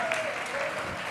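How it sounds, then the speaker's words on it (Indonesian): A brief burst of crowd applause, a dense spread of clapping hands heard from a distance at moderate volume. "Tepuk tangan."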